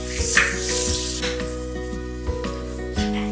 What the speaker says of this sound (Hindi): मसाले को हमें बहुत अच्छी तरह भूनना है।